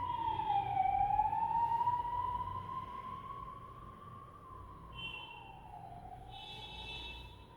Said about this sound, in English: I can just hear the sirens outside.